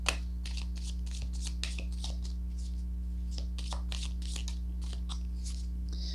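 A Cigano fortune-telling card deck being shuffled by hand: rapid, close papery riffles and flicks in quick irregular bursts over a steady low electrical hum, continuing for about six seconds without speech.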